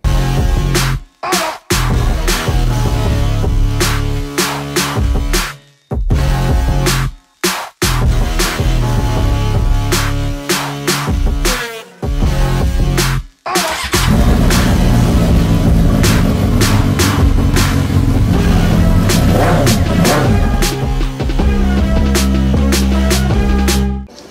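A 34hp Honda Grom motorcycle fires up and revs hard, loud and close, its engine note rising and falling in repeated bursts separated by brief cuts, then holding a steady roar.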